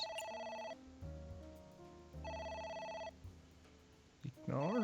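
In AI: The Somnium Files, a game telephone rings in two repeated electronic bursts, with a voice briefly heard underneath and toward the end.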